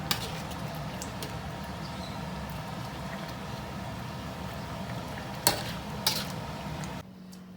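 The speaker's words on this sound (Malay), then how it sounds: "Sekarang kita masukkan ayam yang kita goreng tadi. Okey, masak hingga dalam 5 minit." Fried chicken is stirred into red chili sauce in a pan for ayam masak merah, bringing a steady low sizzle with occasional metallic clinks of the utensil against the pan before cutting off abruptly.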